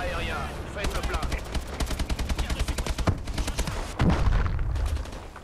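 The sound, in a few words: air support gunfire in video game Call of Duty Advanced Warfare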